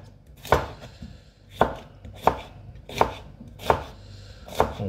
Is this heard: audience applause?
no